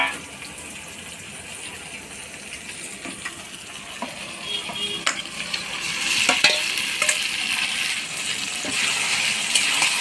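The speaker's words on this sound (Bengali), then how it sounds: "এবার মাখায় রাখা মাংসগুলো দিয়ে দিব।" Marinated mutton pieces go into a hot pan for a mutton curry, and a steady sizzle rises as the meat fries. Stirring clatters and scrapes grow louder in the second half, and no voices are heard.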